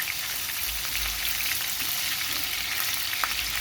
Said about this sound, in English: So we will fry the fish first for our salted fish